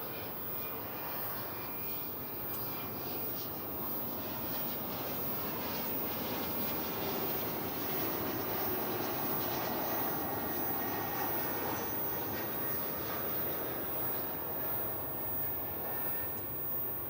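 An airliner's engines roar steadily at DFW Airport, a broad constant rumble and hiss held at an even, moderately distant level throughout, with no voices.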